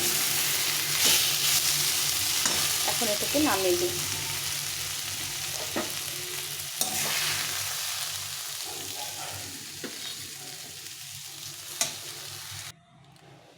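Mustard greens (shaak) fry in a pan and are stirred with steady sizzling and scraping, loud and close, before the sound fades and cuts off near the end; someone speaks briefly over it.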